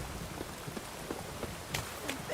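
Rain falls steadily as a soft, even hiss in The Witcher 3, broken by a few faint taps and drips, with no talking.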